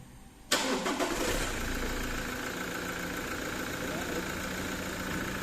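A Toyota 1GD diesel engine cranks and fires after a timing chain replacement, then settles into a steady, even idle without rattling, running close and continuous with a voice speaking over it.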